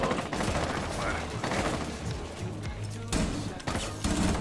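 Rapid video game gunfire, dense bursts of automatic shots crackling almost continuously, loud and close, with players talking over the firing.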